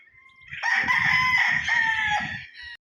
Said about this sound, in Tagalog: Kita muna natin yung mga manok ni Sir GC.